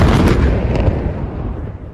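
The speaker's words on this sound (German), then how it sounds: "Die Explosionen waren kilometerweit zu hören." Loud, deep rumbling blasts roll out as a forest fire reaches a Greek air force ammunition depot, overlapping booms merging into a heavy, continuous roar that slowly fades.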